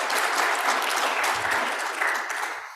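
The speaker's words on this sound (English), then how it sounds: "Applause even before I start." An audience at a church conference Bible teaching session claps in sustained, dense applause throughout, steady and fairly loud with no speech over it.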